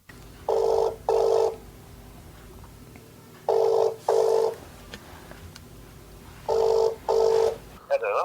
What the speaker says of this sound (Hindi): आवाज की दुनिया के बेताज बादशाह अमीन सयानी से चलिए हम टेलीफोन पर कांटेक्ट करते हैं।